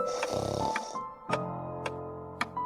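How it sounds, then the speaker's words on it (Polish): Loud snoring from a character in the Jeff the Killer version of the Granny horror game: slow, rumbling snorts close by, repeating at steady intervals with short sharp catches between breaths. "Tak sobie chrapiemy tutaj."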